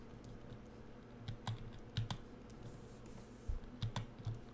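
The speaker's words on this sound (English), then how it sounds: "This is the loudest keyboard you'll ever hear." Typing on a loud computer keyboard, with irregular clacking keystrokes and occasional heavier thumps, fairly close but low in level, without speech.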